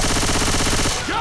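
Rapid automatic gunfire from the video game Left 4 Dead 2, a dense, loud, continuous burst lasting about a second before cutting off.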